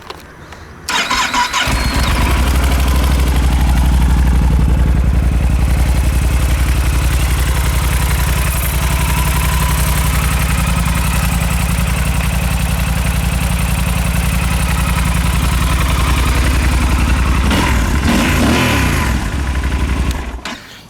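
A 2012 Yamaha Super Tenere motorcycle engine starts up and runs at a steady, loud idle for about eighteen seconds, close by, then cuts off; no voices.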